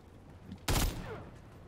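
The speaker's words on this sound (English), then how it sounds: "There's enemy fire." Enemy gunfire in the video game Call of Duty Modern Warfare 3, a single loud, sudden burst of rapid shots that quickly fades into low background ambience.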